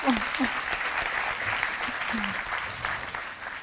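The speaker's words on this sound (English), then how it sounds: "A round of applause for the sponsors." Conference attendees at a project management chapter anniversary event applaud the sponsors, a sustained crackle of many hands at moderate distance, with faint voices briefly audible beneath the clapping.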